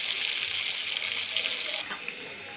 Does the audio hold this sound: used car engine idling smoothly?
no